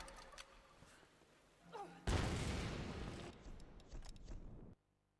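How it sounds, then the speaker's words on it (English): Grenade launcher firing in Tomb Raider 2013, one heavy boom that cuts in abruptly, then a rumbling blast tail that holds for a couple of seconds before ending suddenly, after some quieter game noise. "And then you use your grenade launcher."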